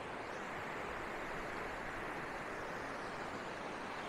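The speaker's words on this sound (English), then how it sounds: "here's the beautiful river" A clean mountain river near Creede, Colorado, rushing steadily in a continuous broadband wash of flowing water, even and unbroken throughout, with no voices.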